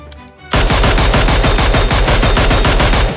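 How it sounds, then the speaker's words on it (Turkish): M249 machine gun in a video game spraying a long, loud automatic burst of rapid, evenly spaced shots close by, bursting in abruptly after a brief quiet moment and continuing to the end. "Adamın birinde M249 var. Hunharca tarıyor."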